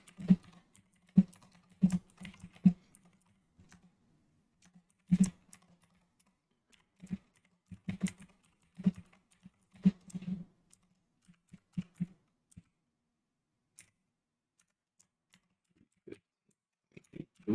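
Soft keystrokes on a computer keyboard come in short, scattered bursts separated by silent gaps, with single clicks trailing off toward the end.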